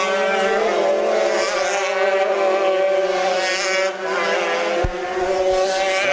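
Race cars in a main event circling a track: loud, sustained engine whine close by, with pitch rising and falling as cars pass, a brief dip, then a sharp thud.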